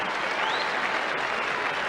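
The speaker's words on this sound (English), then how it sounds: "a very generous round of applause from this crowd at the Melbourne Cricket Ground" Cricket crowd at the Melbourne Cricket Ground during a 1981/82 World Series Cup match applauding in a dense, sustained wash, broad and distant, with no break.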